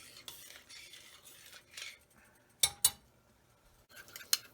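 A spoon stirs liquid in a pot, giving soft swishing and a few sharp clinks against the metal, quiet and close with short pauses between strokes.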